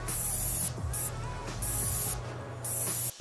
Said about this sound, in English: if you equip it and click, it sprays and makes a sound